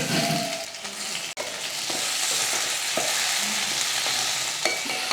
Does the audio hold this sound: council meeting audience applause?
no